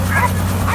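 A young dog at working trials gives short, high yips and whimpering barks, close and loud, two bursts over a steady low hum.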